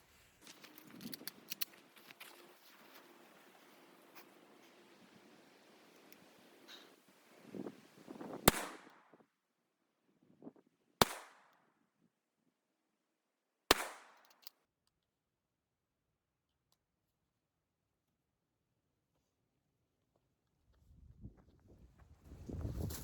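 Three sharp, loud gunshots are fired in a group at a target at a slow, even pace, each with a brief echo, after quieter handling noise.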